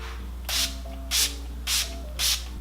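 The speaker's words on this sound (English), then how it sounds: "that was an aggressive spray" Four quick, forceful spritzes of makeup setting spray from a spray bottle, evenly spaced, each a short burst of hiss over a low steady hum.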